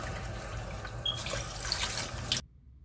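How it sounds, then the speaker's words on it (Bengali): Water runs and splashes as fish is washed by hand with turmeric and salt in a kitchen, a close, steady trickle with small drips that stops abruptly near the end. "এখন আমি আবার হলুদ এবং লবণ দিয়ে আবার কিছুক্ষণ পরিষ্কার করব। আমি ধুয়ে নিব।"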